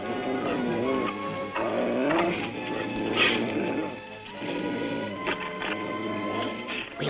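Cartoon dogs bark and yip in a Smurfs episode, short excited barks and whimpers scattered through the scene while characters talk over them.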